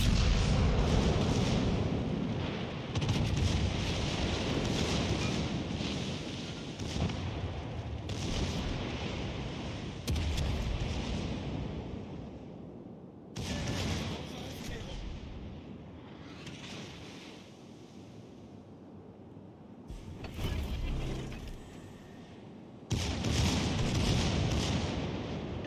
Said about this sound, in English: Look at how many people are firing at him and not doing any damage